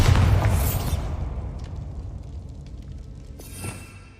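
A Bombarda spell detonates in Hogwarts Legacy with a loud, close boom, then a long rumbling fade and a smaller blast flaring up shortly before the end.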